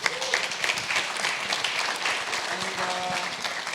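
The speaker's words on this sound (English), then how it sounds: "we should give them a big round of applause" Audience applause at an art talk during Miami Art Week, a dense, steady wash of clapping from a crowd that carries on throughout, with a few faint voices mixed in.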